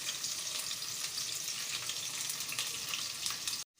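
Garlic, ginger and cumin fry in hot oil for a mutton stew, giving a steady, dense sizzle that holds loud and even and then cuts off abruptly at the end.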